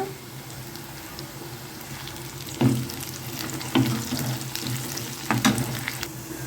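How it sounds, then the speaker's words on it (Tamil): Onions and curry leaves fry in a pan for a sardine (mathi) fish gravy, giving a steady close sizzle with a few louder stirring scrapes. "வெங்காயம் ஓரளவுக்கு வதங்கின அப்புறம் கருவேப்பிலை சேர்த்துக்கோங்க."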